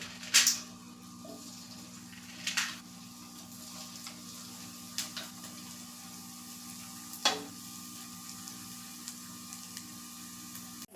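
Hot oil sizzles steadily as chakli fries, with a few sharp pops and crackles now and then.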